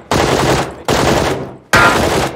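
QBZ assault rifle firing in PUBG on the Sanhok map: three loud bursts of rapid automatic gunfire, each lasting well under a second, close and sharp with short pauses between.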